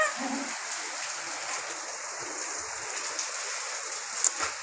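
Steady rain falling outdoors, a continuous soft hiss of drops on surfaces throughout, with a faint louder splash near the end.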